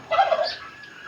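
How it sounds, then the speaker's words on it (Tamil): A turkey on a rabbit farm gives one short, loud, close gobble that fades into quiet. "வான்கோழி இருக்குது"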